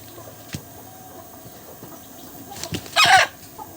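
Grown chickens clucking during beak trimming with a cheap trimming machine: scattered faint knocks, then one loud, close squawk near the end.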